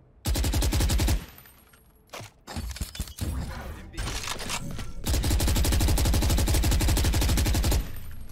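Loud, rapid automatic gunfire in long bursts from the video game Valorant, Brimstone gameplay, broken by a short stretch of scattered single shots and thuds, then another sustained burst.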